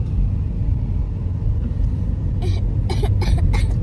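A person coughs several times in a rough, phlegmy burst near the end, close and loud over the steady low rumble of a car interior stuck in Cebu traffic.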